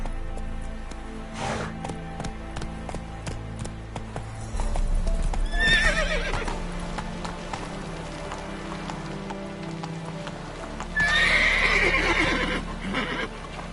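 A horse gallops in The Witcher 3, loud steady hoofbeats with snorts and whinnies over game music and rain, with no talking.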